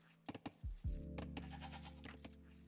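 Sheep bleat in an Age of Empires match, several short rising calls in quick succession followed by a longer sustained bleat with game sounds behind it, fairly close and clear.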